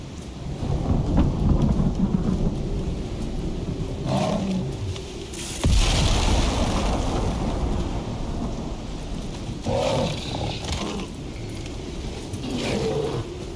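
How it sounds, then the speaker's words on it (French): A thunderstorm in the video game Icarus: steady heavy rain hisses throughout while deep thunder rolls and cracks loudly, one sharp clap near the middle, with no talking. "Là, il y a de l'orage."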